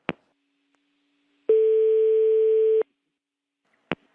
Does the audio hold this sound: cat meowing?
no